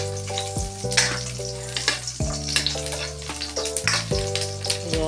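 Pork fat rendering in a frying pan gives a constant crackling sizzle with spitting bursts, mixed with prominent background music.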